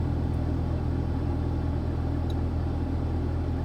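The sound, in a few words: long dolly truck engine rumbling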